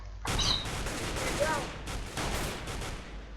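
Gunfire in the Counter-Strike video game, a dense burst of shots starting abruptly and continuing steadily at close range, with a voice talking over it.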